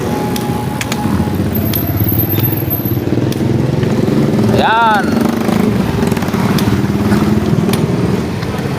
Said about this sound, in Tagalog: Yung tinakbuhan ng motor. Yan, mabilis po.